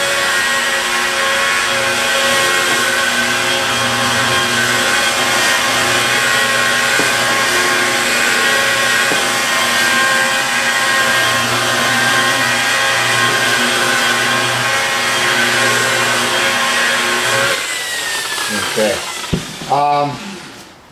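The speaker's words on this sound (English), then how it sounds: "Running a buffer is like if you ever did janitorial, you know, there's the machine that strips the wax off floors." A car buffer polishing machine runs with a loud, steady motorized whine and hum for most of the stretch, then winds down and cuts out near the end with a few clunks.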